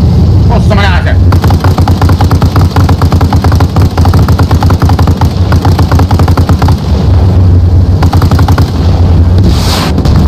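Rapid bursts of automatic gunfire in the video game Arma Reforger rattle continuously under excited voices talking, with brief pauses between volleys.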